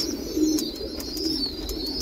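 A male pigeon cooing close by, a low, steady throaty murmur repeating through the moment with faint background noise and no talk.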